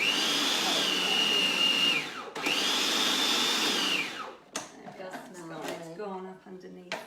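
An old blender whirs loudly and steadily through slushy sorbet in two long bursts with a short gap between them, then stops, and a person talks afterward.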